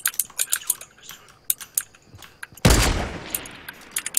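Gunfire in Fortnite, a run of sharp scattered shots and quick bursts at a moderate distance, with one louder, heavier blast partway through that rings out and decays, and no speech.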